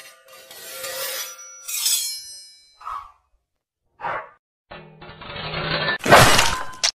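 Glass breaking in a loud, sharp shattering burst near the end, with a bright crash and scattering fragments, following several shorter scraping and clattering noises and gaps of silence.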